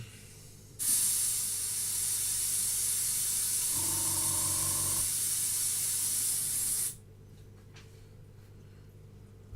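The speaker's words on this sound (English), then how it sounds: "I just need to clean my airbrush apparently, and then it'll work." An airbrush loaded with unthinned acrylic paint sprays a steady, loud hiss for about six seconds, briefly joined by a faint tonal hum partway through, with no talking.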